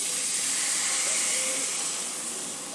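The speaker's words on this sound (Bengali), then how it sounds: "পরিমাণ মতন জল দিয়ে দেবো।" Water is poured into a hot pan of potato curry, setting off a loud, steady broadband hiss of steam and sizzle that holds evenly and fades slightly at the end, close.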